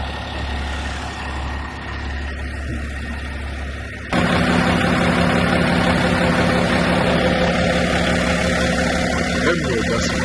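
A dump truck's heavy diesel engine idles loudly with a steady low rumble, then revs up abruptly and stays at a higher, rougher drone; someone talks over it.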